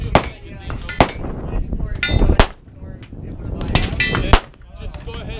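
Cobalt Kinetics AR15 rifle firing at a range: several sharp, loud reports at irregular intervals, with people talking between the shots.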